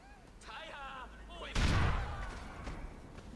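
A grenade blast in GTA 4, thrown toward distant enemies during a truck-hijacking mission, lands as a sudden loud boom with a rumbling tail that lingers and fades under continuing game noise, following a stretch of talking.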